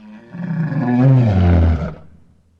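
A lion gives one loud, close roar lasting about two seconds, swelling from a low rumble into a full-throated bellow and then tapering off, with no other sound around it.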